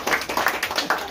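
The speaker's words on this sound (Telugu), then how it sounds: "అందరూ చప్పట్లు తట్టచ్చు కదా." A group of people clap in a short burst of several quick, fairly close claps at a gathering of local leaders.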